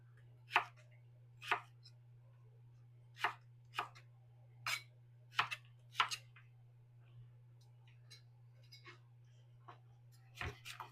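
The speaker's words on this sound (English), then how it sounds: "So I'm dicing up the carrots and the onion." Carrots and onion diced with a knife on a cutting board, about a dozen sharp, irregularly spaced chops, close and fairly quiet over a low steady hum.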